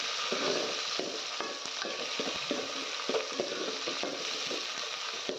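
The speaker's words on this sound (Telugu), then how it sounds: "టమాటాలు బాగా మెత్తబడే వరకు అయితే వేయించుకోవాలి" Tomatoes frying in a pan for drumstick sambar, a constant hiss of sizzling oil broken by soft, irregular stirring scrapes, fairly quiet and close.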